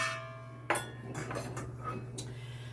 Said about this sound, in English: I'll whisk the dry ingredients